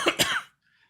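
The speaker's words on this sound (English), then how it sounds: "I almost coughed on my blue microphone" A single close cough into a Blue microphone, two or three sharp bursts in quick succession that end abruptly and are followed by near silence.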